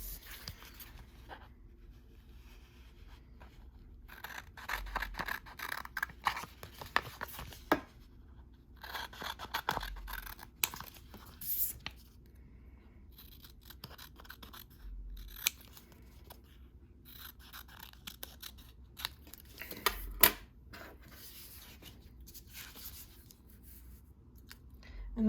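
Hand scissors snip through vinyl decal material in quiet, intermittent cuts with soft rustles and scrapes between them, all close and faint.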